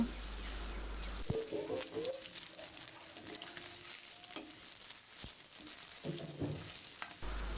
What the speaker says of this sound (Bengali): দেখুন ডিমগুলো প্রায় ভাজা হয়ে এসেছে